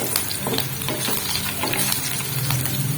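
Steady crackling sizzle of whole black peppercorns and spices frying in hot oil for a dal tadka, with scraping stir strokes throughout and no talking.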